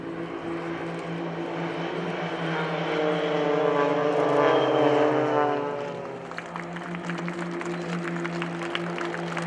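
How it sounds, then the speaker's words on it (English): A Spitfire flying the Spitfire roll at an airshow, its propeller engine droning loud and steady, swelling as it passes overhead and then easing off, with crowd noise behind. "This is the Spitfire roll."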